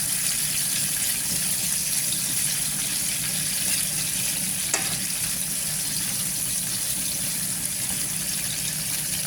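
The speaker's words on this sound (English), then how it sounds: "I'm gonna let the onion caramelize a bit before I add the mushrooms and the peppers. I'm gonna give that another stir." Onions caramelizing in a pan give a steady, even frying sizzle close by, with one brief stir scraping through it midway.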